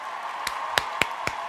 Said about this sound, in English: Round of applause for everyone that made that happen.